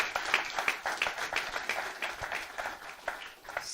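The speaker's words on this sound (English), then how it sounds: "Can we clap for Master Jesus?" Church congregation claps together in a steady, rapid patter of hands, filling the room for several seconds without speech.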